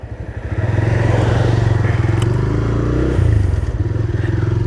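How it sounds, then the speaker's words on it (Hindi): A TVS Raider 125 motorcycle engine starts with a twist of the throttle and settles into a steady, loud close-up idle with a slight bump in revs partway through. "बस ये थ्रॉटल को थोड़ा सा घुमाना है, बस बाइक स्टार्ट हो जाएगा।"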